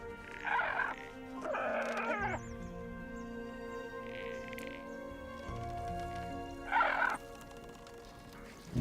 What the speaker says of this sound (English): Bone raptors that sound like roosters